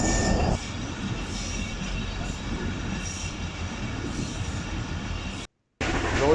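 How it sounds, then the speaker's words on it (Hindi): Shalimar Express pulling out of Rohri Junction, a steady rumble of railcars and wheels with faint squeals, continuous and close, broken by a brief dropout near the end. "फ़िलहाल ट्रेन हो गई है रोरी जंक्शन से रवाना"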